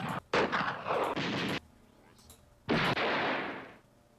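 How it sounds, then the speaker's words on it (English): Browning automatic rifle firing: a long, loud burst of rapid shots, a short pause, then a second sustained burst, close and harsh. "Browning automatic."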